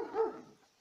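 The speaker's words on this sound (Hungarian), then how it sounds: "Kutya, ne ugass!" A single short dog bark or yelp, fairly close and moderately loud, fading quickly with no talk over it.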